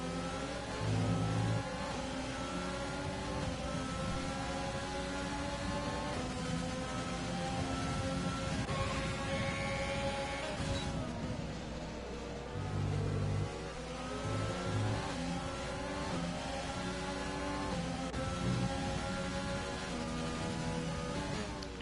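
Formula 1 cars from a racing video game at Interlagos, engines screaming and shifting as they pass in close succession, high revving tones rising and falling with a faint hiss of rain beneath.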